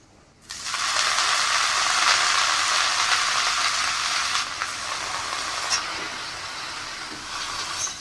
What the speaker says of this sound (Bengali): এখন আমি কড়াইতে দিয়ে দিচ্ছি